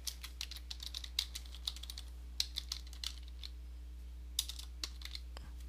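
Typing on a computer keyboard while editing a design template, with irregular bursts of sharp key clicks and brief pauses, fairly close and alone without talk over a steady low hum.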